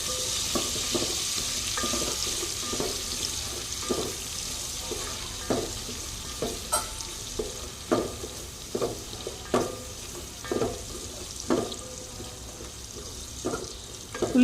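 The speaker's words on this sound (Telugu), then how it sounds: "అదే ఆయిల్లో ఉల్లిపాయలు అయితే వేసుకొని వేయించుకోవాలి." Onions frying in leftover oil in a pan for egg pulao, a steady close sizzle with repeated scraping stirs knocking through it at irregular intervals.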